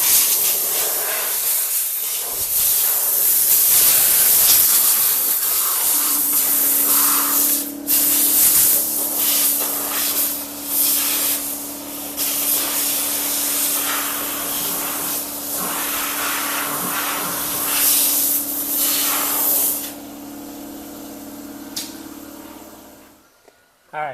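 Compressed air blasts debris out of a 1981 Chevy Camaro engine block, producing loud, sustained hissing with short breaks and gusts over a steady low hum, fading near the end.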